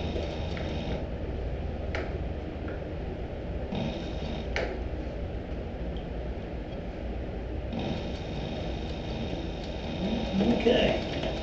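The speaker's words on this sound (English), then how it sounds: "I'm gonna start out sewing backwards, and I'm just gonna sew right up that little line I created." A sewing machine runs a steady mechanical whir with rapid ticking stitches as it sews backwards along a line on a cork-covered leather clutch, pausing briefly in short stops between runs.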